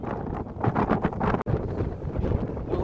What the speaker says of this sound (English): the wind is quite incredible